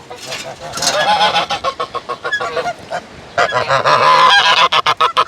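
Geese honk repeatedly and loudly, a noisy overlapping chorus of harsh calls with short bursts near the end.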